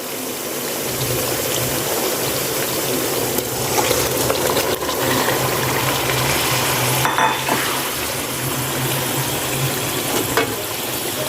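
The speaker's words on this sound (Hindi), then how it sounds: "अब इसको अच्छी तरह मिक्स करेंगे। 2 से 3 मिनट तक मसाले के अंदर भूनेंगे।" Potato koftas are stirred and fried in a masala with yogurt, giving a close, steady sizzle with repeated spoon scrapes and stirring clatter throughout, louder bursts near the middle.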